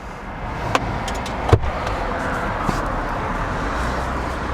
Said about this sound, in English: it is as simple as just pushing the button there and it closes itself up for you